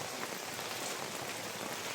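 Rain falls in a dense, even hiss near the sea, drops pattering on a shelter roof without pause, fairly quiet and steady.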